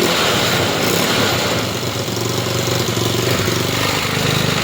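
A Skygo motorcycle engine, just repaired after losing electrical power and refusing to start, runs steadily and loudly close up with a rough, rattly idle throughout.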